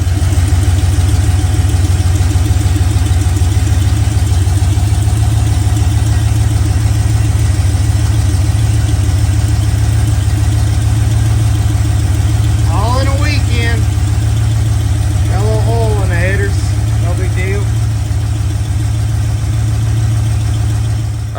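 A car engine idles loud and steady after new E7 cylinder heads were fitted, a throaty low rumble that continues throughout, with brief speech partway through.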